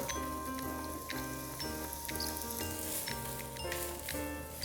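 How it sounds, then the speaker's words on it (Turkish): Onions fry in oil in a pan, sizzling steadily with faint crackles and ticks, a soft continuous frying sound with no voices. "Şimdi soğanlarımı kavurarak işleme başlıyorum."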